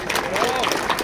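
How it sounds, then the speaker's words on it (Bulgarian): A crowd applauds in a brief burst at an outdoor family march, the clapping loud and dense with a voice speaking over it. "Аплодисменти."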